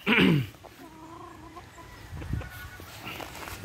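Boston Black gamefowl roosters let out a loud, close cluck-squawk, then quieter low clucks and faint farmyard noise follow.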